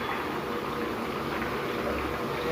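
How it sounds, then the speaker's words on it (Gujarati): Nylon sev, a fine gram-flour noodle snack, frying in hot oil, giving a steady dense bubbling sizzle that holds without pause and with no voices. "તેલમાં જેટલી માય એટલી ભરવાની"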